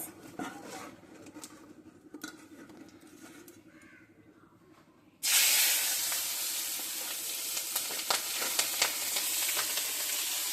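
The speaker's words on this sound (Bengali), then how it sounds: "এখন তেলের উপর দিয়ে দেব জিরে তেজপাতা দিয়ে দেব এখন দিয়ে দেব কাঁচামরিচ" Cumin, bay leaf and green chilli hit hot oil with a sudden loud, hissing sizzle about halfway through, after a quieter stretch of faint pan clatter, then keep crackling steadily and close up to the end.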